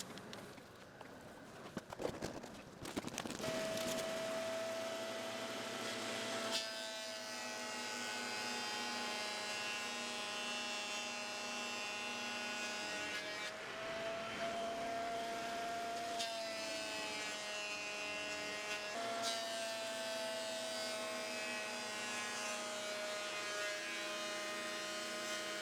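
Makita 2040 Japanese planer feeding wood pieces through, a steady high whine from the running cutter with heavier grinding bursts as each board passes, close and loud with no talk.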